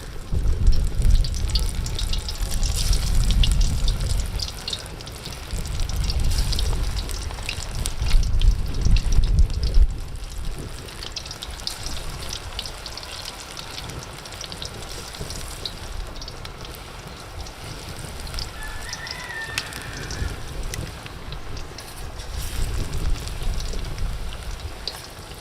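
Village-style besan and palak pakoras deep-fry in hot oil, a dense continuous crackling hiss like rain with louder bubbling surges early on, heard close and without talk.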